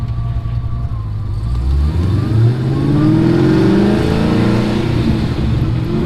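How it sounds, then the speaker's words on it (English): A tuned car engine revving hard nearby, a loud sustained roar rising and falling in pitch over several seconds, with no talking. "yeah, the car is running awesome."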